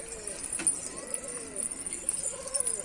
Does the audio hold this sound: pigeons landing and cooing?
yes